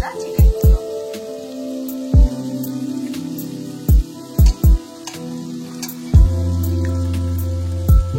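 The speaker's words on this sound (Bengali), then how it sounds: "এটাকে মশলাটাকে আগে ফ্রাই করে নিতে হবে" Chicken frying in spiced masala and oil sizzles steadily in the pan, broken by several loud, sharp clatters of a spoon or spatula against the pan, with a rise in sizzle near the end.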